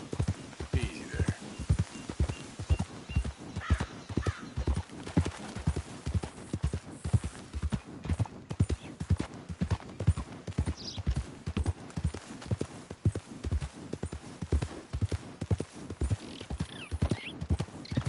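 Horse hooves clip-clop steadily in Red Dead Redemption 2, a continuous even gait of close, distinct thuds throughout, with a brief whinny and faint voices talking beneath.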